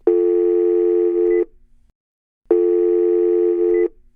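Telephone ringing for a call: two long, loud electronic ring tones, each about one and a half seconds, separated by a short silence, clean and alone with no voices.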